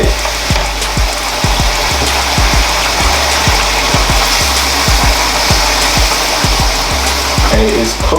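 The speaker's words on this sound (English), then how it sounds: "And it is cooking right now. The chickpeas, the mushroom, the herbs, the spices, the everything." Chickpeas, mushroom, herbs and spices cooking in coconut milk in a curry, with a steady bubbling sizzle and a regular rhythmic ticking or stirring pulse running underneath, fairly loud and close with no talking.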